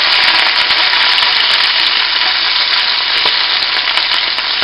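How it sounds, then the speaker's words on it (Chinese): Scallion, ginger and garlic sizzle steadily in hot oil in a wok, a loud, continuous frying hiss with occasional stirring scrapes and no talk. "现在已经开始热了，放的葱姜蒜把它煸香。"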